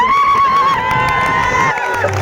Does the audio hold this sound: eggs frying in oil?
no